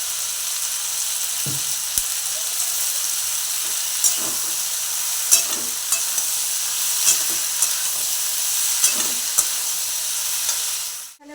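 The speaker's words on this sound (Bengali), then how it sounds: "বরবটি আলু ভাজাটা বসিয়ে দিয়ে" Long beans and potatoes fry in a pan with a loud, continuous sizzle and hiss, broken by scattered scraping knocks of stirring, with no voices present.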